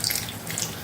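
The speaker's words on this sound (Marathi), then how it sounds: "सर्वात शेवटी मी यात हे थोडं पाणी घालत आहे" A short, close splash of water is poured into bitter gourd curry simmering in a pan, a brief steady rush of liquid.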